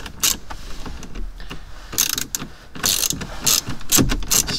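Screws being backed out of a vehicle during parasitic battery drain troubleshooting, with a run of sharp ratcheting clicks and metallic turns in irregular bursts, close and fairly loud, and no talking.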